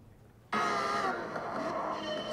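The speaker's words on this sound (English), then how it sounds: "So this is a car sound." A car sound recording played back during a haptics software demo starts abruptly after a quiet moment and continues as a steady, dense engine-like roar to the end.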